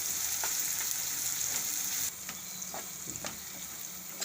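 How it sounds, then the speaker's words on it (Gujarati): Onions frying in oil sizzle loudly at first, then the sizzle drops to a quieter hiss, with a few light clicks and stirring touches near the end. "ડુંગળીને આપણે તેલમાં કરી સડવા દઈશું"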